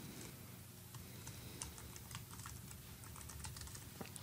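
Someone types a file name on a computer keyboard in a quiet room, giving a faint, quick run of light key clicks over a soft background hum.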